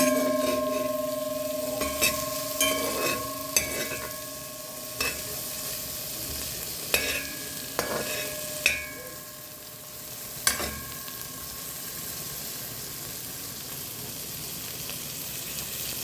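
Onion and pimentos frying in oil for curried goat, a steady soft sizzle with scattered spoon clinks and occasional stirring scrapes, fairly quiet and close.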